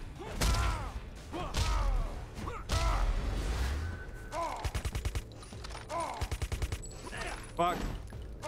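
Jax's guns firing in the Mortal Kombat vs. DC Universe fighting game: heavy blasts and rapid rhythmic bursts of shots, mixed with impacts, fighter grunts and game effects, loud and close throughout.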